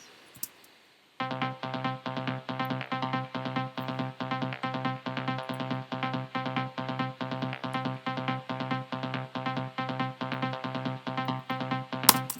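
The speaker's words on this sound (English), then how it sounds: "the two Nexus ones are pretty important here too. Those together sound like this." Two layered Nexus synthesizer patches play together as a bright, evenly repeating plucked pattern with rich overtones, steady and alone for about eleven seconds after a short quiet start.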